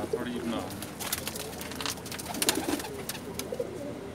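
Pigeons coo softly in low, throaty bursts amid rustling and faint background chatter, with a few scattered clicks and flutters nearby.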